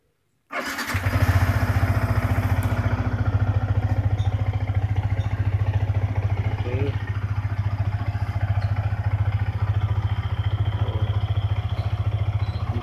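A Yamaha Vixion R motorcycle engine cranks and fires up after a brief silence, then settles into a loud, steady, close idle with a fast rhythmic thrum that holds for the rest of the clip.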